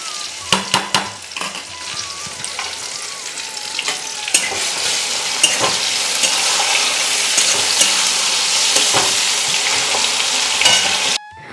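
Potato and radish pieces fry in a pan, making a loud continuous sizzle punctuated by clattering stirs and scrapes of a utensil against the metal.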